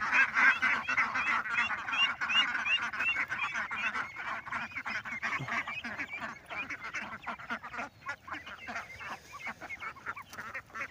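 A flock of ducks quacks in a dense, continuous chorus close by as they are herded out toward a field.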